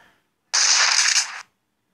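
A pump-action shotgun fires once in a Minecraft PE gun mod, a single sharp, loud burst lasting about a second, heard alone between stretches of silence.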